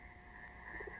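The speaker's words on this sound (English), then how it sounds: "It starts off with frogs and crickets." Frogs croaking from a Sharper Image sound machine, a soft, steady nature loop with a couple of brief croaks near the end over a faint continuous hum.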